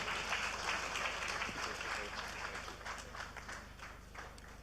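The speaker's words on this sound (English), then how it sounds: "Can we please give them a round of applause" A crowd at a business lunch breaks into sustained applause, dense overlapping claps filling the room at a steady level for several seconds before easing slightly toward the end.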